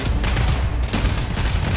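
Sustained gunfire from the co-op shooter game GTFO, a loud, dense barrage of overlapping shots that continues without pause for the whole stretch.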